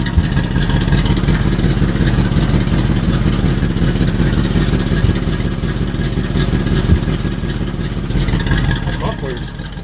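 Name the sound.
truck engine revving with blown-out muffler exhaust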